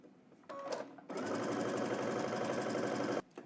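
A home sewing machine back stitching jumpsuit fabric, heard up close in a short burst followed by a longer run of steady rapid mechanical chatter that stops abruptly at the end.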